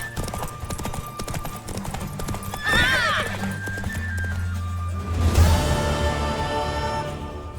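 A horse whinnies twice, loud and near, while hooves clip-clop steadily throughout, the second neigh swelling longer and stronger over the hoofbeats.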